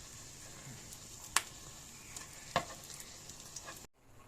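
Potato keema kebabs frying in a pan, a faint steady sizzle with a couple of sharp clinks or scrapes, ending abruptly.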